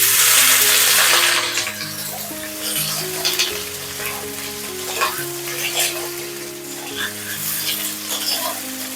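Raw mango pieces sizzle loudly as they hit hot oil with mustard seeds and dried chilli, the frying strongest at first and then settling into a steady softer crackle under background music.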